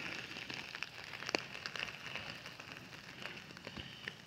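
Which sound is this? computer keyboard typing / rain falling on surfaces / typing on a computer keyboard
rain falling on surfaces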